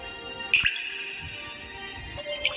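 Two bright, echoing drops of water plink about two seconds apart over a sustained, sparkling musical drone.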